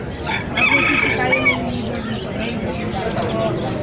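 A rooster crows amid a noisy outdoor animal market, its call rising over background chatter and ambient sound.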